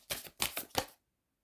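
Tarot cards are shuffled close by in three quick riffling bursts, then silence.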